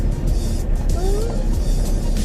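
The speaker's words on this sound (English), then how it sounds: "So we're going out onto the track now, guys." A 4x4 car in a video game rolls onto a track, its engine a steady low drone with faint tyre noise.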